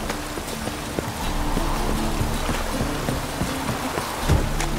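Rain patters steadily on surfaces in The Witcher 3 video game, joined by rhythmic hoof clops of a horse moving along, with a soft low rumble beneath.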